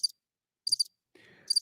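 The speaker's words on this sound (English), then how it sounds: "we're going to give myself crickets for that because nobody else laughed" A cricket chirping sound effect plays as a comedic cue during a basketball talk stream: sharp, high chirp bursts in three spaced groups, with a faint rustle between them, no voices.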